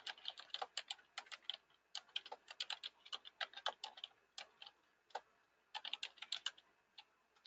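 Rapid keystrokes on a computer keyboard as a message is typed, coming in quick bursts with short pauses, close and fairly soft, with no talking.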